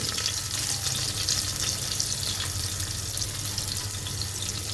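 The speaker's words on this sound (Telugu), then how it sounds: "ఆయిల్ వేడిన తర్వాత జీలకర్ర, ఎండుమిర్చి, పచ్చిమిరపకాయలు, చిన్న ఉల్లిపాయలు," Cumin, dried red chillies, green chillies and small onions fry in hot oil for a sambar rice tempering, giving a loud, steady crackling sizzle with no voices.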